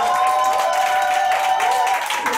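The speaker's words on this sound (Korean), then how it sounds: "큰 박수 부탁드리겠습니다" Seminar attendees clap in a continuous, fairly loud round of applause that stays steady from start to finish, with a faint tonal hum running beneath it.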